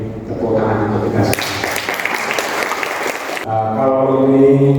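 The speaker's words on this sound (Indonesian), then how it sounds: "Jadi tepuk tangan untuk kita." A parish audience breaks into a burst of applause lasting about two seconds, a dense wash of clapping between stretches of someone talking before and after.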